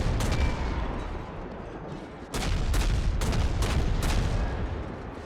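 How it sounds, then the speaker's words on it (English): Naval guns boom repeatedly from the destroyer Mahan during a World of Warships sea battle, about five heavy, loud salvos in quick succession over a constant rumbling background. "I'll take a couple shots since I should be semi-safe"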